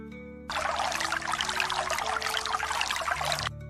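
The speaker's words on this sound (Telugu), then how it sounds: "మహారాజు మాత్రం రోజూ ఆ మొక్కకు నీళ్లు పోస్తూ ఉంటారు" Water poured steadily onto a plant by a king in an animated moral story: a continuous splashing pour of about three seconds, fairly close and loud, with a faint tonal background hum.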